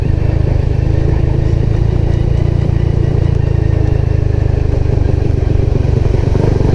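An old motorcycle engine running on a Sunday-morning group ride, a loud, close, steady throbbing rumble with mechanical clatter throughout and no talk over it.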